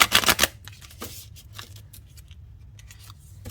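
A quick riffle of tarot cards shuffled up close, a brisk burst at the start followed by softer scattered flicks and taps.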